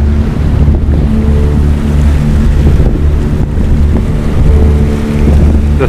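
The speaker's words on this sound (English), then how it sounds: "At the moment we're just motoring along, we're doing 7 knots." A sailboat motoring under engine at 7 knots off Singapore, with a steady low engine drone blended with loud wind buffeting and rushing water around the hull throughout.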